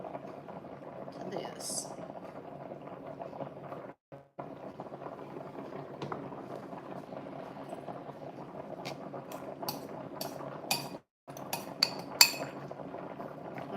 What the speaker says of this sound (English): I'm going to go ahead and stir in some pepper